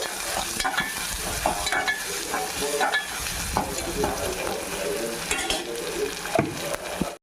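Onion pieces with cinnamon, cloves, cardamom, coriander and a little mint frying in two spoons of oil for chicken fry piece biryani, a steady close sizzle with repeated scraping stirs throughout.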